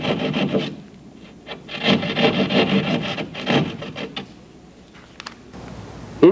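A tool rasps into a wall to cut a V-shaped slot, making short rough scraping strokes in irregular bursts, close and fairly loud, with no voices.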